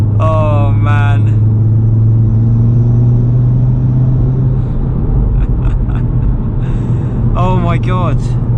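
A Stage 2 MRC-tuned Audi RS3 drives a mountain road, its engine a steady, loud low drone throughout, with brief speech near the start and end.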